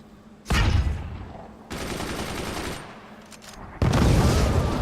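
Gunfire from the artillery strategy game Forts sounds in three loud, close bursts, each a dense rattle of blasts and booms that carries on until the next burst begins.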